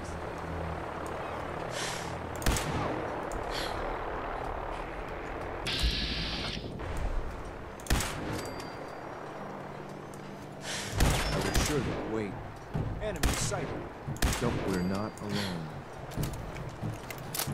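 Scattered gunshots in the video game Fallout 4, a handful of sharp cracks and thuds spaced irregularly among game ambience, with a voice talking between them.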